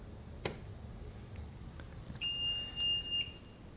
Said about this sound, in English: So as you saw, it's going into an alarm